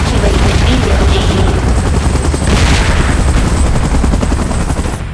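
A helicopter roars loudly and continuously in a PUBG Mobile game scene, a dense, close rotor-and-engine drone with rumbling booms and possible gunfire mixed in.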